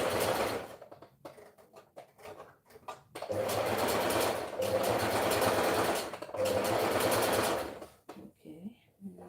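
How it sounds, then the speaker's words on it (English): A sewing machine stitches in bursts, a rapid rhythmic whirring that starts and stops several times, close up, with someone talking quietly in between runs. "This one I'm even stitching now."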